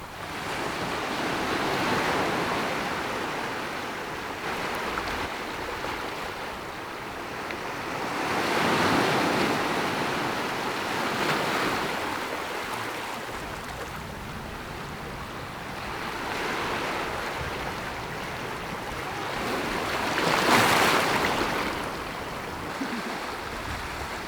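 Waves washing onto a warm sandy beach, a steady roar of surf swelling and easing every few seconds, with some wind noise over it and no voices.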